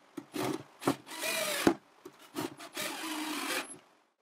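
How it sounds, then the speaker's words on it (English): A drill bores guide holes in wood while an Adirondack chair is being assembled, in several short bursts with brief pauses between them, close and fairly quiet. "I drill 4 guide holes."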